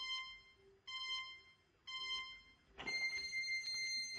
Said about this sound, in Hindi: टाइमर स्टार्ट हो चुका है।